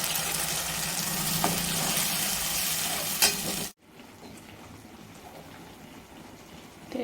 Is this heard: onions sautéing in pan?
yes